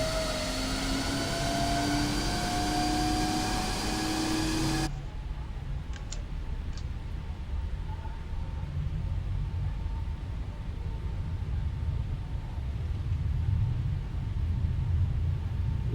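Airliner engines spool up for takeoff in Microsoft Flight Simulator 2020, a steady loud roar with rising whining tones that cuts to a broader, duller rumble partway through and holds there.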